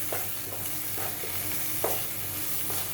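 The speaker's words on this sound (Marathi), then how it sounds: "आता आपण त्यामध्ये काळे वाटाणे घालून घेणार आहोत।" Whole cooked black peas (kala vatana) are tipped into a pan of well-roasted spiced masala for a spicy Malvani usal curry. A steady low sizzle runs throughout, broken by repeated scraping stirs of a spoon against the pan, with no voices.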